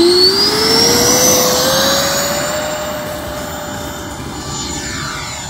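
An E-flite F-4 Phantom RC jet's electric ducted fan whines loudly, its pitch rising steadily at first, then holding a high, even scream that eases slightly in loudness.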